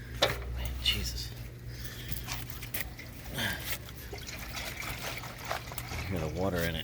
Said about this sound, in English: Hear the water in it.